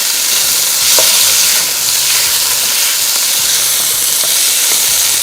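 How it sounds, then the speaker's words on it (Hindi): Cubed chicken frying over high heat in a pan, a steady loud sizzle and hiss with stirring scrapes throughout, no voices. "इसमें क्यूब में कटा हुआ चिकन, इसको तेज़ आंच पे थोड़ा सा करना है फ्राई"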